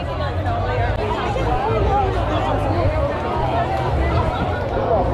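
A dense festival crowd at an outdoor Italian market street fair makes a constant close babble of many overlapping voices with footsteps and bustle.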